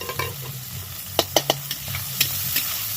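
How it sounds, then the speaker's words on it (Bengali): Grated ginger and green chillies frying in a pan and stirred with a spoon, with a soft sizzle, a low background hum and a few sharp scraping clicks close by. "আদাটাকে দিয়ে ভালো করে নেড়ে নেবো"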